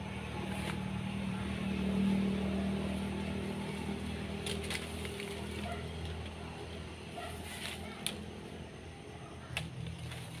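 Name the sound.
vehicles passing on a national road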